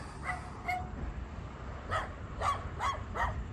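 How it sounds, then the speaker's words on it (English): A dog barks five short sharp times, two early and three in quick succession later, at moderate distance over a low outdoor rumble. "Before he's barking and growling at us"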